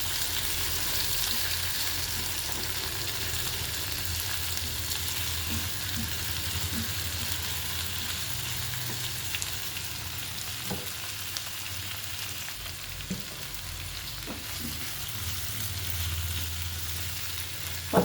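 Ginger and garlic fry in oil in a pan for a spicy fish curry, giving a steady, soft sizzle. A few faint clicks from stirring come through, with no talking.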